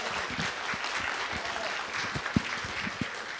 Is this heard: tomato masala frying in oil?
no